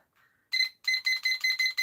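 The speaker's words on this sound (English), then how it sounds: "Sorry about the horrible beeping. That's the timer we have." A phone timer alarm goes off, a faint tone followed by a run of five sharp, loud electronic beeps in a steady fast rhythm, heard close and alone.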